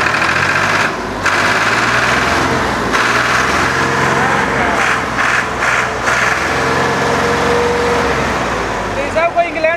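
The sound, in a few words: old Ford tractor engine started and running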